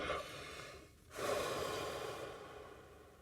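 A person exhaling slowly and audibly during a breathing exercise, a soft breathy rush after a brief pause, close and quiet with no speech.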